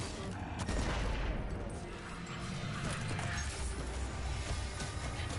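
Dense gunfire from the online shooter game Destiny 2 pours out in a busy, continuous barrage of overlapping shots and impacts with no pauses.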